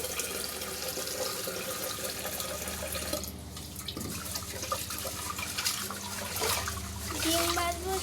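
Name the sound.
water running from tap while washing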